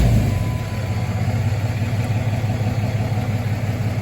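A Cummins diesel truck engine idles at close range, a steady, even low rumble with a faint rhythmic chug throughout.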